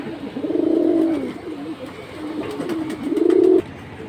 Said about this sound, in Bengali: ফ্লাইয়ের কবুতর।